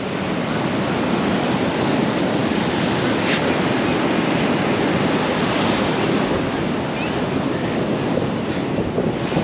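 Ocean surf at Cockle Creek beach in southern Tasmania washes in a steady, loud broadband roar, with wind buffeting the microphone throughout and no distinct breaks between waves.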